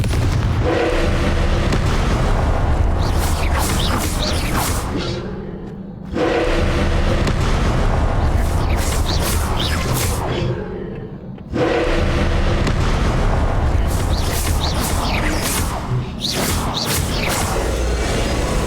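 Spell-blast explosions in Hogwarts Legacy roar almost continuously, loud, dense rumbling bursts with crackling debris in three long waves separated by brief dips.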